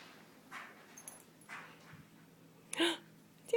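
A dog whimpers softly in short, faint bursts, with a sharper little yelp near the end.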